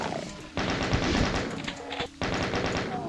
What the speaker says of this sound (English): I should just be chain gunning things all over the place